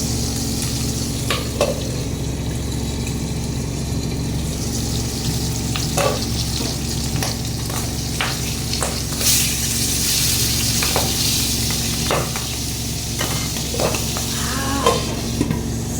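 Boal fish frying in hot oil crackles and spits loudly, with sharp pops and bursts of sizzle over a steady hiss and a low hum, with no talk.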